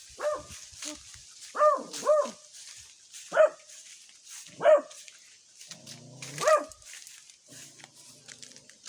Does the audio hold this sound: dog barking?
yes